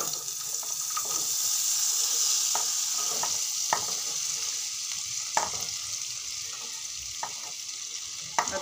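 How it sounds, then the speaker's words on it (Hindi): Water chestnuts, onion and ginger frying with cumin in a pan, a steady hissing sizzle with scattered sharp taps and scrapes of a spoon stirring, close, no speech. "और मैं अच्छी तरीके से भूनूंगी।"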